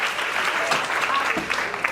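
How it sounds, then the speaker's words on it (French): Church congregation at a worship service in Queens Village, NY, clapping to praise the Lord: steady, dense applause from many hands filling the room, with voices mixed in underneath. "Acclamez le Seigneur"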